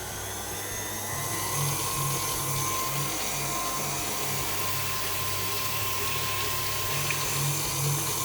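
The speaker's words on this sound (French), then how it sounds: "J'installe le fouet à nouveau" An electric hand mixer whisks lemon cream in a bowl, a steady close motor whir with a faint periodic pulsing as the whisk turns, running alone without speech.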